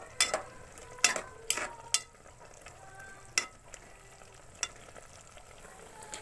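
Adobong sitaw with eggplant cooking in a pot, a soft continuous bubbling bed broken by several sharp clinks of a spoon against the pot, quiet and near, without speech.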